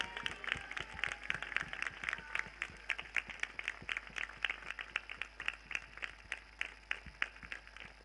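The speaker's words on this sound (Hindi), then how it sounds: "आधे लोग ताली बजाकर प्रभु को महिमा दे रहे हैं" A church congregation claps together to give glory to God during worship, a dense run of sharp hand claps repeating steadily and filling the room at moderate volume.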